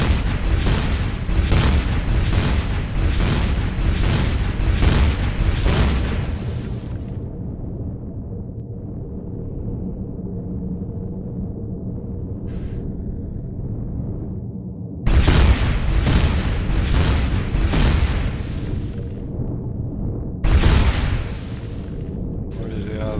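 A gun fires in the space survival game Empyrion, with sustained bursts of loud, booming rapid shots for several seconds, a lull, then more heavy bursts later.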